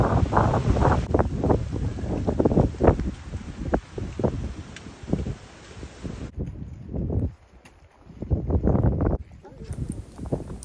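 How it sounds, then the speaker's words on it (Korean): Strong, buffeting wind, gusting to 25 m/s at minus 9°C, roars across a snowy winter mountain summit, rushing loudly in surges with a brief lull, while a voice speaks at times. "점점 눈과 바람이 거세지고 있죠."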